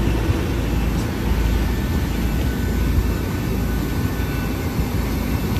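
A steady, loud roar of airplane engines fills a packed passenger cabin in flight, an even rumble with no clear breaks.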